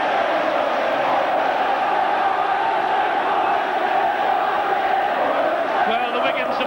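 St Helens rugby league supporters singing in a large stadium crowd during a St Helens v Wigan match in 1992, a dense, continuous mass of voices that is distant but loud and swells slightly toward the end.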